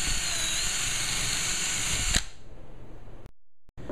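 A power drill bores a hole into a wooden target frame for an indoor BB gun pellet trap, whining loudly and steadily for about two seconds before stopping, followed by a couple of faint handling clicks.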